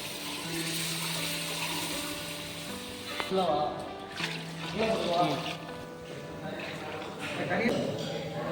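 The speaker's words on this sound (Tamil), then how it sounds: "நான் 2 கிலோ அரிசி எடுத்துருக்கேன். 4 லிட்டர் தண்ணி ஊற்றுறேன்." About four litres of water is poured into a cooking pot for chicken biryani made with two kilograms of rice. The splashing and trickling comes in uneven bursts, and a person speaks over it.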